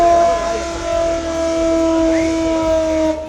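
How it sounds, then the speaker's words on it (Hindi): A civil defense air raid siren sounds during a war mock drill in Lucknow, a sustained steady wail held loud and even throughout, with faint background noise beneath. "राज्यों में भी आज जंग के सायरन बजे।"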